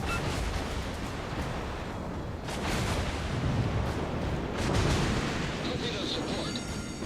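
Secondary guns on a warship firing in the naval battle game World of Warships, a dense, continuous roll of booming gunfire and blasts that swells louder midway and toward the end, with a voice speaking underneath.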